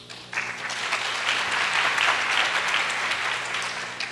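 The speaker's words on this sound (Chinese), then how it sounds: "我们来用热烈的掌声来欢迎伯强" Audience applause welcoming a speaker at the 2015 COSCUP open-source conference, a dense, steady clapping that swells quickly after a brief quiet start and holds loud throughout.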